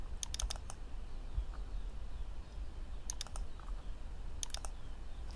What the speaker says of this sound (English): And let's type here